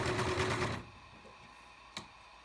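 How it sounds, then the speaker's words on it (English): Singer 5137 sewing machine stitching at speed, a loud rapid mechanical whir for under a second, then stopping abruptly, followed by quiet room tone and one faint click. "Bit of a noisy machine, but once you start going faster, it doesn't make as much noise."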